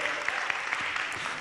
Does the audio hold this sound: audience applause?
yes